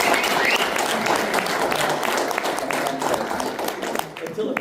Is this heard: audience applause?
yes